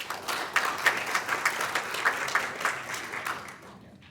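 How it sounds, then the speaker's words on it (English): A luncheon audience in a hotel function room claps for a speaker taking the stage, with several seconds of moderate, slightly uneven applause that thins and fades away at the end. "Let's give him a round of applause."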